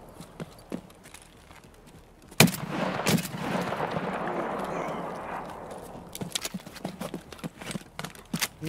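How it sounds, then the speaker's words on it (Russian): The player fires a suppressed weapon in the shooter Escape from Tarkov: one sharp, close, muffled shot, followed by a second report and a stretch of rustling movement and footsteps that continue intermittently afterward. "я тоже глушеный выстрелю разочек"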